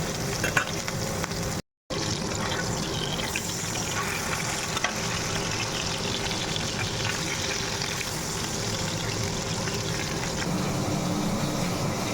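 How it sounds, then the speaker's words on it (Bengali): Fish pieces fry one at a time in a large kadai of hot oil, giving a steady, dense crackling sizzle throughout with a brief dropout, close and fairly loud, with no talking. "একটা একটা করে ভাজতে হবে কড়াইতে বড় বড় তো"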